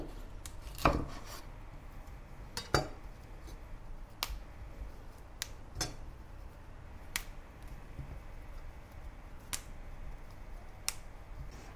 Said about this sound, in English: Get a head of broccoli, separate the stem from the florets.